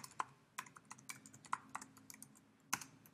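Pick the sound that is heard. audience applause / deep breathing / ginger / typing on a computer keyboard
typing on a computer keyboard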